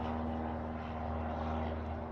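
A steady propeller plane drones overhead, a constant engine hum with no voices.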